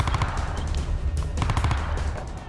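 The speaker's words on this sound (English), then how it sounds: "shots in the distance" Gunfire on a battlefield: dense, rapid bursts of shots that roll and overlap without pause, rumbling and heavy, like steady machine-gun fire.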